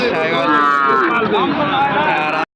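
Cattle at a livestock market, Sahiwal breed stock among them, give one long loud close moo lasting over two seconds, rich and harmonic, then stop abruptly.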